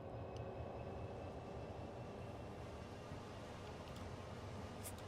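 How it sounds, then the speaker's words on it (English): Low, steady rumbling of a Class 66 locomotive in a video game running with its brakes on, a grinding, dragging roar and faint high squeals, continuous and even throughout. "It really sounds like it's got the brakes on."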